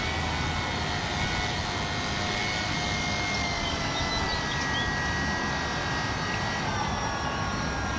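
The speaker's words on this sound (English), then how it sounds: "the review and flight of the Fly Zone Tidewater airplane" A Fly Zone Tidewater RC seaplane, a foam EPO model with a 1015 mm wingspan, flies with a continuous electric motor and propeller drone that stays steady throughout without pauses.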